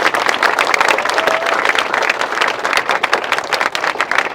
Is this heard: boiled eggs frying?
no